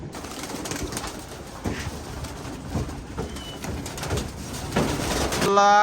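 Several pigeons coo continuously at close range, soft low throaty calls overlapping with a few rustles and brief movement noises, and no one speaking.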